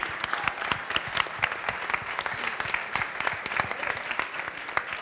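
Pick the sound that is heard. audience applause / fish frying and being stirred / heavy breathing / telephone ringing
audience applause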